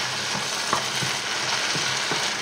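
Vegetables and veal paupiettes cook gently in a frying pan, giving a soft even sizzle with a few light taps of a utensil against the pan.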